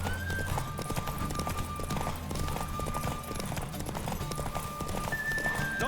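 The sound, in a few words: horse galloping and neighing in The Witcher 3 video game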